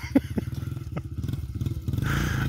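Dirt bike engine chugging and revving as a rider lands a jump, a rapid pulsing exhaust beat with a thump and clatter, close and loud.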